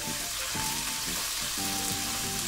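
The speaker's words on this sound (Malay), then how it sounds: "So kita tumis dia sampai bau dia naik" Garlic stir-frying in a pan for chicken char siew, a dense, loud crackling sizzle that runs without a break for a couple of seconds, close up and with no voices.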